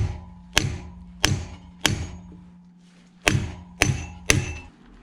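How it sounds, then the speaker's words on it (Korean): A plastic mallet strikes a BMX crank arm while the mid bottom bracket is fitted: six sharp, solid knocks at irregular intervals, each ringing briefly with a metallic tone, close and clear. "자, 플라스틱 망치로 한번 쳐보겠습니다."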